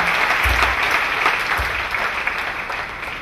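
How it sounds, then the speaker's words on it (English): Applause from a church congregation during a deliverance service, a steady wash of many hands clapping that stays fairly even throughout with a couple of low thumps. "Clap for Jesus Christ."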